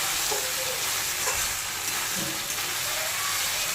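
Fried onion sautéing with ginger-garlic paste and green and dried chili paste, a dense loud sizzle with light stirring scrapes throughout.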